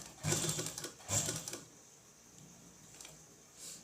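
A sewing machine stitching a naira cut kurti runs in two short bursts of rapid mechanical clatter, then trails off into quieter handling sounds with a faint tick near the end.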